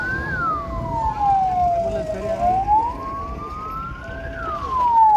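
A fire engine siren wails loudly and nearby during a fire safety demonstration, its pitch sweeping slowly down and then back up in long rising and falling cycles over a low background rumble.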